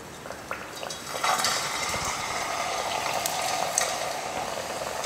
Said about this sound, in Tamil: இப்போ எண்ணெயில் இந்த கழுங்கு போட்டுக்கலாம்.